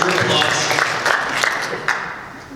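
Audience applause at a town council candidate forum in Fountain Hills, Arizona, a steady wash of clapping from the room with a few sharper claps poking through, fairly loud throughout.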